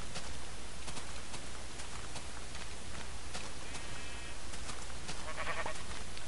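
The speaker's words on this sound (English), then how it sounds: "Yes, more sheep." Sheep in the video game Minecraft bleat a few times, short synthetic bleats over a steady hum of game background noise, moderately close.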